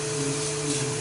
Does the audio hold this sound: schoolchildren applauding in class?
no